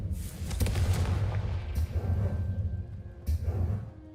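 A Confringo fire spell blast in the video game Hogwarts Legacy, heard as dense booming bursts over a busy game soundtrack, with sharp bright cracks near the start and another burst late in the clip.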